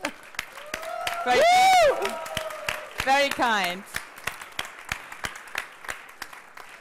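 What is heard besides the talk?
audience applause for Bayer MaterialScience team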